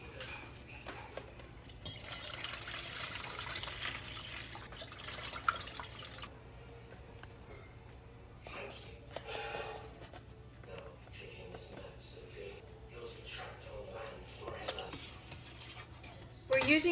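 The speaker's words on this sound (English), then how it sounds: "we're going to put in 3 cups of warm water and 1/3 cup of baking soda. And then we mix it together" Warm water running and trickling into a bowl with baking soda, then stirred, giving a steady splashing, dripping wash that fades into softer intermittent mixing sounds near the microphone.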